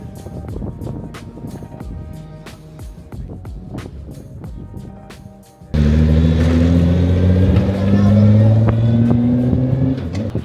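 A Praga race car driven by a test driver on the Le Castellet circuit, first a quieter stretch of clicks and mechanical noise, then a sudden loud, close engine roar rising in pitch under hard acceleration.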